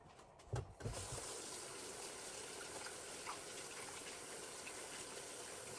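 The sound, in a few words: water running while washing up baking mess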